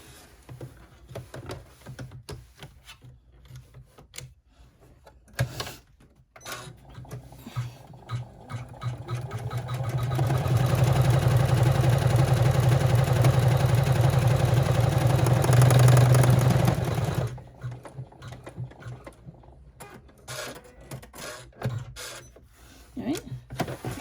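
An embroidery machine stitches a zipper pocket onto a bag flap held in the hoop, a steady mechanical whir that holds at an even level for several seconds before cutting off, with quieter handling noises around it.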